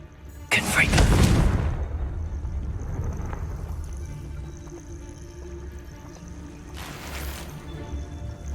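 In Hogwarts Legacy, the Confringo explosive curse goes off with a sharp, booming blast that fades out over about a second. A second, softer blast follows several seconds later over quiet ambient sound.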